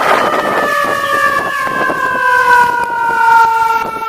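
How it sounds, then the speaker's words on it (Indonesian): A toy fire truck's electronic siren wails loud and close in a continuous, slowly falling tone with a faint clattering underneath. "Di sini ada mobil pemadam kebakaran."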